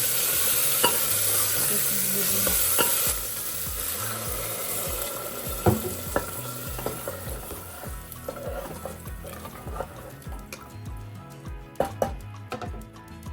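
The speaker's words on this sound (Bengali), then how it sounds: "এটা ভালো করে কষানো হয়ে গেছে এবারে জল দিয়ে" Sautéed ghugni masala in a pan hisses loudly, then the sizzle drops as water goes in. Stirring follows with scattered scraping clinks and bubbling, and no one speaks.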